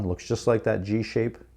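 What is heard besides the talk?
No everyday noise stands out behind the speech.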